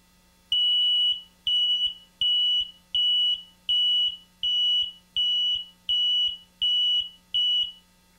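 Audio alarm on an HFGP 6701 hot line indicator, nine evenly spaced, loud high-pitched beeps about a second apart over a faint steady hum.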